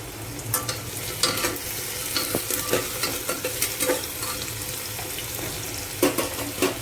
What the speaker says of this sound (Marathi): कांद्याला थोडं परतून द्यायचं आहे